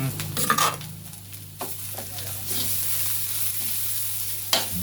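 A seasoning paste for a Thai country dish is stir-fried in a hot pan, giving a steady close sizzle with spatula scrapes and stirring knocks throughout, with no talking.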